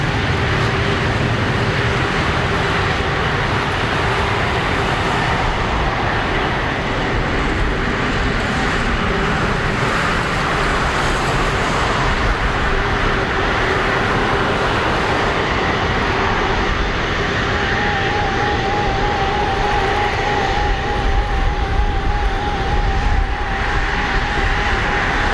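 Air Canada Airbus A330-343X jet taking off at Narita International Airport in summer, a loud, continuous engine roar with broadband rumble that holds steady throughout, no voices over it.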